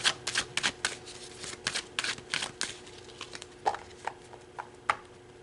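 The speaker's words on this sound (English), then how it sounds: "So let's pull some more cards." Tarot cards are shuffled and handled in a run of quick, crisp riffling taps and flicks, fairly close and quiet, with no voice over them.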